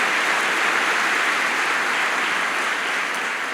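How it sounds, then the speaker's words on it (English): Audience applause fills the hall at a medical school white coat ceremony, a steady, dense wash of clapping that holds at full strength throughout. "I think that deserves a round of applause."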